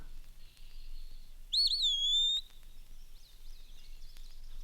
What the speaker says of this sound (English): eastern wood pewee. And then phoebe is similar too